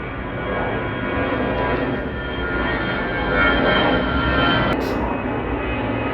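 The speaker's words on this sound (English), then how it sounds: "A freaking plane." An airplane passes overhead with a steady, broad engine roar that swells a little near the middle and holds throughout, with no one talking.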